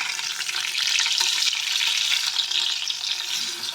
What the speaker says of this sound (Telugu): ఇలా కలిపి పెట్టుకున్న ఫిష్ ఫ్రైని మనం ఫ్రై చేసేసుకుందాం షాలో ఫ్రై అయితే చాలా బాగుంటుంది